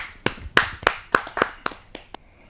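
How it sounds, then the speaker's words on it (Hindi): A small audience claps about ten times to welcome a poet at a Hindi kavi sammelan, sharp hand claps in a loose, slowing rhythm, close and alone. "आइए स्वागत करते हैं आप सबकी जोरदार तालियों से।"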